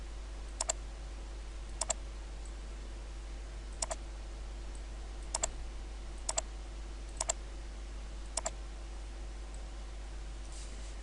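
Sparse, sharp clicks from a computer mouse or keyboard while working in Photoshop, about eight isolated taps spaced a second or so apart over a steady low electrical hum.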